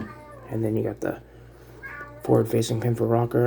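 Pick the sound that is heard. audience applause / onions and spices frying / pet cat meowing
pet cat meowing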